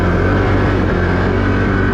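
A Can-Am Outlander 1000R big-bore ATV engine drones steadily and loudly as the machine climbs a steep hill, with a continuous low, even roar and no pauses across the short stretch.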